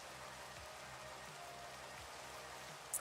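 Steady soft rain falls in Minecraft as a faint, even patter and hiss, with a brief small click near the end and no voices.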